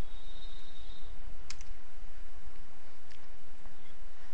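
A few sparse, faint keystrokes tap on a computer keyboard while an asterisk-formatted comment is typed, set against a steady background hiss.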